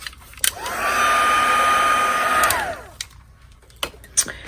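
A heat tool blows steadily for about two seconds while setting embossing powder on a paper craft, a loud whining fan tone that rises on start and falls away, with small taps around it.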